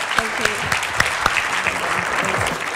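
An audience applauds Caroline with a steady wash of clapping, some sharp individual claps standing out, and faint voices murmuring underneath.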